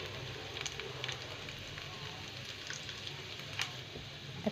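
Chicken gizzards fry in a pan with a steady, close sizzle and faint crackles and pops, moderately quiet and continuous.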